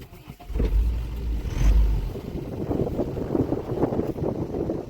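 A loaded vehicle hauling its first load of straw drives along with a low engine rumble and rough wind buffeting. The sound swells around the middle, then settles into a steady drone, with no talk.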